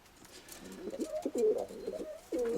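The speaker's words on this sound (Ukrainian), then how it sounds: "Зараза такий агресивний голуб ужасно" An aggressive pigeon coos in a run of low, throaty rolling calls, close and fairly loud, with a stronger final coo.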